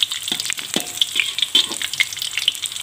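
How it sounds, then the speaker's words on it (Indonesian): Spice paste sautés in a pan with a bright, crackling sizzle, punctuated by quick pops and several utensil scrapes, close and fairly loud throughout. "kita tumis dulu bumbu-bumbunya tadi. Kita tumis sampai harum, sampai setengah matang ya ibu."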